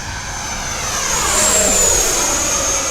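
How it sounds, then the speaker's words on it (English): An E-flite F-16 80mm electric ducted-fan RC jet passes by, its high whining roar swelling in loudness and pitch as it nears and then easing slightly, with a steady airy rush beneath. "Just a phenomenal flying jet."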